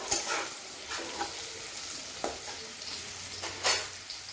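Capsicum and onion fry in a pan for paneer pulao, a soft continuous sizzle broken by several distinct scraping stir strokes at close range, with no voices.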